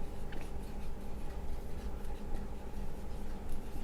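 Hand-writing of a linear equation during a practice-set lesson, with faint, continuous scratching strokes of pen or chalk, steady and close, with no speech over it.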